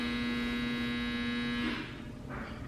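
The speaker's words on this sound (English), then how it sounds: "my dryer again." A clothes dryer hums steadily and quietly in the background, a constant low drone with no speech.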